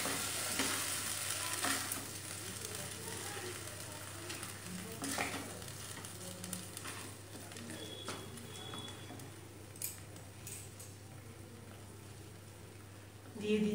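Spices with turmeric being stirred and mixed in a frying pan for moong dal, a soft sizzle and intermittent scraping strokes running quietly in the background, with occasional clinks and a few louder scrapes.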